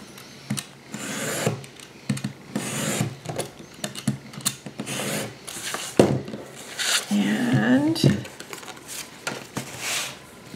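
Chipboard being trimmed by about a quarter inch, with scraping, rasping cutting strokes and irregular ratcheting, clicking handling noises close by, loud and uneven in bursts.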